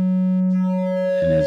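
A steady synthesizer tone, smooth and nearly pure like a sine wave, held loud and unchanging before it brightens and roughens at the end.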